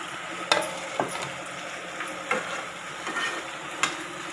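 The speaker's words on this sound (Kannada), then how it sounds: "ಇವಾಗ ಹೀರೆಕಾಯಿ ಬೆಂದಿದೆಯಂತೆ, ಹಾಫ್ ಬಾಯ್ಲ್ ಆಗಿದೆ, ಅದಕ್ಕೆ ಟೊಮೆಟೊನ ಹಾಕಿ ಮಿಕ್ಸ್ ಮಾಡ್ತಿದ್ದಾರೆ." Tomato stirred into half-cooked ridge gourd in a pan: a steady sizzle of frying with several distinct scraping stirs from a spoon at irregular intervals, close and clear with no talking.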